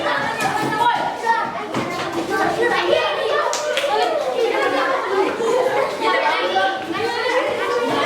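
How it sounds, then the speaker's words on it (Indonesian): A classroom group claps for classmates who just finished a peer-teaching presentation, steady scattered hand claps mixed with children's chatter and voices throughout. "kelompok 2 udah selesai, tepuk tangan dulu"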